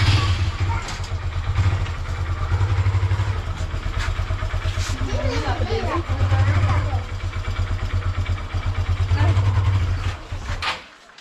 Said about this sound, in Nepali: बाइक फुल स्टार्ट गरेको 5-10 मिनट भइसक्यो